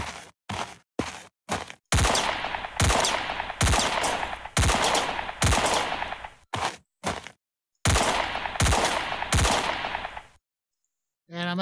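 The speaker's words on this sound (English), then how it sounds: "That's the gun being used." Gunfire in the video game Lost Home: Battle of Islands: loud, close bursts of rapid automatic shots with single cracks between, ending abruptly in silence.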